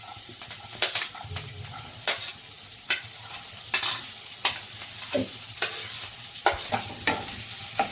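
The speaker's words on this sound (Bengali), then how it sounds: "ওই গাজর বিট ওগুলো ভেজে নেব একটু" Carrot and beetroot pieces frying in hot oil in a wok, a bright sizzle broken by regular scraping stirs of a spatula against the metal, close and steady without speech.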